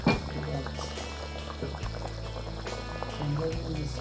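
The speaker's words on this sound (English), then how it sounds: "I'm going to pour it inside the banga." Washed bitter leaf is poured into a pot of Nigerian banga soup, a brief close liquid pour with splashing and bubbling that swells again near the end.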